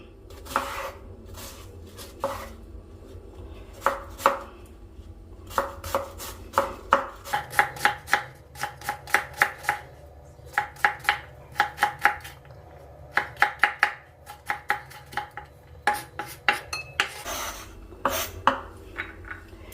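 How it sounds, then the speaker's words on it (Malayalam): Onion being chopped with a knife on a board for a homemade bread and vegetable breakfast, a long run of quick, close, crisp chops in bursts with short pauses, no talking. "നമുക്ക് സവാള അരിയാം സവാളയുടെ ഞാൻ പകുതി എടുക്കണം"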